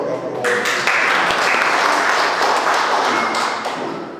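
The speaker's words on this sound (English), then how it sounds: "A big round of applause for Dr. Hawkett." Audience applause for Dr. Hawkett at a book discussion, a full, sustained burst of clapping from a seated crowd that swells quickly and holds steady before easing off slightly.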